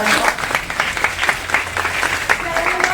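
An audience at a village parayan religious gathering gives loud, sustained applause for the cymbal, pakhawaj and harmonium players, with a voice speaking over the dense clapping.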